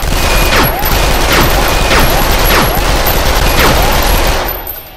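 Bursts of SMG fire in a VR shooter, several rapid volleys in a loud, steady rhythm with mechanical clatter between them, continuous and close throughout.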